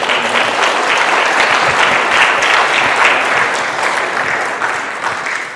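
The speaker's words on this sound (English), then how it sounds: "big round of applause" A large audience at a synagogue gathering against hate breaks into loud, sustained applause, a dense wash of clapping that holds steady and eases slightly toward the end.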